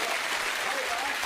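A game show studio audience claps in a dense, steady round of applause from start to finish. The clapping is loud and close, with no pauses and no voices on top.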